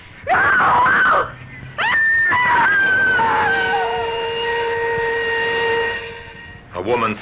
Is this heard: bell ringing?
no